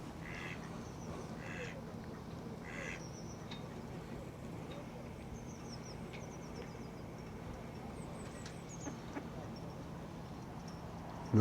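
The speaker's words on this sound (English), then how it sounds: "Oh, quite a few duckies." Several ducks quack in short bursts at a distance over a low road and traffic rumble, with a few faint bird calls scattered through the winter evening.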